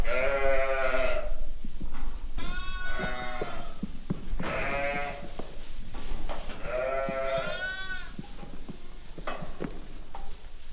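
Several sheep bleat loudly and close by in a sheep barn, long wavering cries repeating every couple of seconds over a low background rumble.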